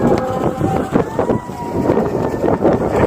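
Strong gusty wind buffets the microphone outdoors during a flight of an Eachine QX90C micro drone, a loud continuous rumble with rising and falling surges and no clear voice over it.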